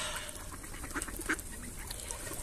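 Ducks quack a few times at a city pond in autumn, short nasal calls at moderate distance over a faint background hiss.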